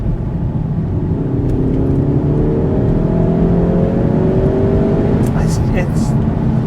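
A Volkswagen Golf R accelerating hard in sport mode from inside the cabin, engine note rising steadily through a gear with loud, continuous road and drivetrain noise, no talking over it.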